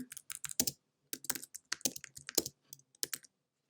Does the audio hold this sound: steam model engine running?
no